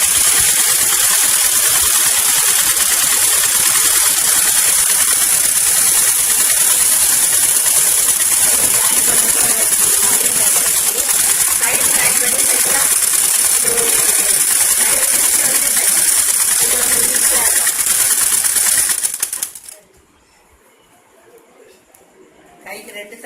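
A sewing machine stitches a blouse, running in a steady, loud, rattling whir for about nineteen seconds before cutting off abruptly. A voice speaks over the machine.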